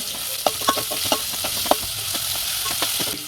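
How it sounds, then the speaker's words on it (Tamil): Sliced onions sautéing in hot oil, a constant bright sizzle with frequent small spatula taps and scrapes against the pan, close and steady. "வெங்காயத்தை லைட்டாக வதக்கிக்கலாம்"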